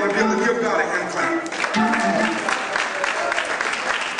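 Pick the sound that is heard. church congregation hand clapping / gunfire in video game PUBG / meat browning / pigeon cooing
church congregation hand clapping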